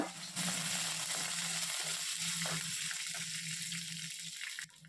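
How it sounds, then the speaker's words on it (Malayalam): Dry red chilies and chopped curry leaves frying in hot oil in a Kerala kitchen, giving a steady close sizzle and crackle with a low hum underneath that stops abruptly near the end. "കുറച്ച് കറിവേപ്പില നുറുക്കിയത് കൂടിയിട്ട് രണ്ട് സെക്കൻഡ് മൂപ്പിക്കുക"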